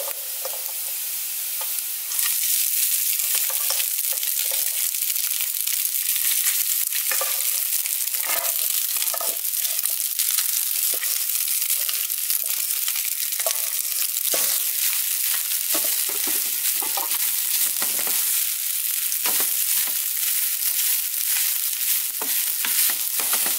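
Rice is stirred into browned chicken adobo in a frying pan. A loud, steady sizzle carries throughout, broken by repeated scraping and stirring noises, with no one speaking.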